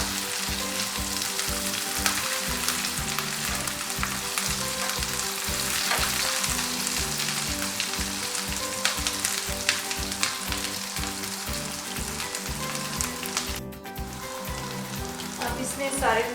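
Onion and garlic fry in a pan for a potato and radish-pod curry. A steady, loud sizzle runs throughout with no talking, and faint stirring scrapes come through near the end.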